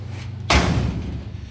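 On a Hellcat Daytona build, a car door swings shut and its latch catches on the door pillar, one solid thump followed by a short rumbling decay.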